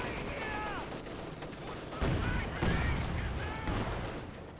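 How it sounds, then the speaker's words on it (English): Company of Heroes 2 battle with a T-34 tank and a 100mm mortar shelling an infantry squad: rattling rifle and machine-gun fire with heavy impacts, plus sliding high tones, continuous and busy with a loud burst midway. "Grenadier squad's getting bombarded to hell by the T-34 and the 100mm mortar."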